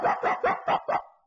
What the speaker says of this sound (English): They're the kind of dog that is always and forever barking at